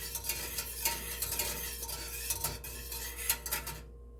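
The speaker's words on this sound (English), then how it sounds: "Keep stirring while you're doing this." Custard milk mixture for an eggnog pie being stirred in a pot over low heat: a spoon scrapes and clinks against the metal in an irregular, close rhythm, with no talking, and the sound stops abruptly at the end.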